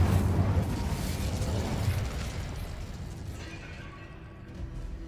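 Incendio fire spell cast in Hogwarts Legacy, a loud rumbling whoosh of flame that erupts at once and then slowly fades away over several seconds, with no talking.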